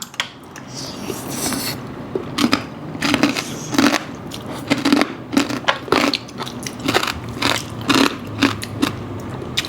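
Someone eats spicy Thai papaya salad made with chicken feet, close to the mic. Steady crunching and wet chewing come in repeated bites over a low background, with no talking.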